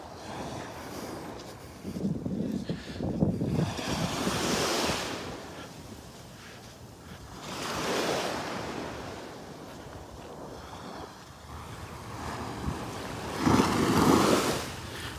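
Surf washes up the beach at Delnor-Wiggins in slow, swelling surges, each wave building and fading against a constant breath of wind on the microphone, with no speech.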